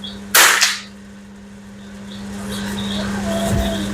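One sharp crack from a CZ 457 rifle firing cheap rimfire ammunition at a 50-meter outdoor range, loud and close, followed by a steady hum and faint ambient noise.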